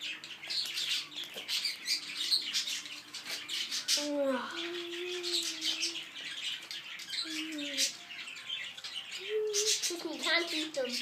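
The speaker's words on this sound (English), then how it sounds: "Yeah, move pigeon." Pigeons being fed seeds squawk and chirp close by, while a voice rises and falls over the birds.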